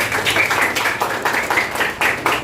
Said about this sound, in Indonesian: Oke, tepuk tangan buat Teguh.